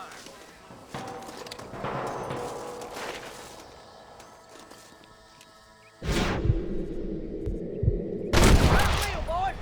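Gunfire in Red Dead Redemption during a shootout near a cabin, starting with distant shots under voices, then loud close bursts of several rapid shots later on, mixed with talk and background game noise.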